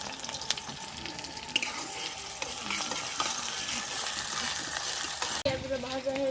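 Chopped onion and green chili frying in oil for a chicken curry, a continuous close sizzle with stirring and scraping, a louder clatter near the end.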